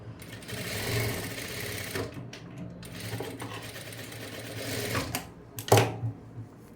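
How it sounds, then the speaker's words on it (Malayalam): A sewing machine stitches a folded armhole seam in a steady, whirring run. It breaks off briefly a few times and then starts again, with a faint voice now and then. "അപ്പോൾ അതിങ്ങനെ മടക്കി തയ്ച്ചു കൊടുക്കുക."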